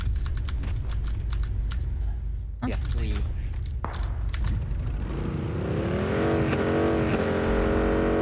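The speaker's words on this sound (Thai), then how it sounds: "เซนเซแป๊บครับเซนเซผมกำลังขับรถไปนะครับ" A car is driven in the game PUBG, its engine rising into a loud revving drone in the second half, while sharp computer keyboard clicks come in bursts over the start.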